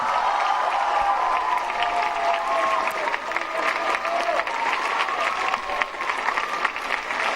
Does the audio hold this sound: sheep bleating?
no